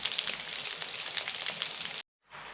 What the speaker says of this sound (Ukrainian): І зараз ми їх будемо обсмажувати на сковорідці під кришечкою, як звичайні котлетки.